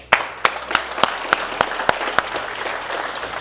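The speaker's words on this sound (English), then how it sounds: "Can everybody please give a round of applause for Mr. Cole Da Silva?" A small audience claps at a youth mentorship program graduation, a handful of sharp distinct claps at first that soon blend into a lighter, thinning patter of applause.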